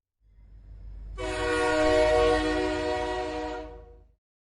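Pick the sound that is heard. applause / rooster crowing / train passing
train passing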